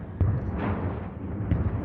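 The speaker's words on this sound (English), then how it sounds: "Explosions echoed through the mountainous terrain that forms part of the sprawling border between Afghanistan and Pakistan." Explosions echo through mountainous terrain along the Afghanistan–Pakistan border, heard as deep rumbling booms with two sharper thuds rolling under a continuous low reverberation.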